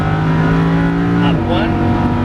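A Lamborghini Huracan LP610-4 on a race track at full throttle, its engine loud and close with a strong sustained roar that holds high revs, then shifts pitch partway through as a gear changes.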